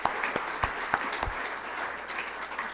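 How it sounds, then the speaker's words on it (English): An awards ceremony audience applauds the awards committee: steady, soft crowd clapping, a few sharper claps standing out near the start, heard from a distance. "So just a round of applause for the awards committee"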